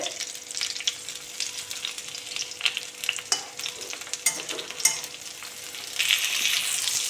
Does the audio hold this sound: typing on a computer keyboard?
no